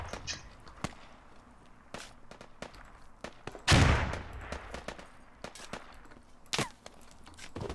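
Gunfire in the tactical shooter Squad: scattered sharp cracks of rifle shots near and far, with one loud close burst in the middle, over a quiet battlefield background without talk.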